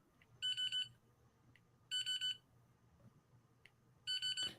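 A retail POS scanner gives three bursts of rapid high beeps, each a cluster of quick tones, separated by quiet pauses in a quiet room.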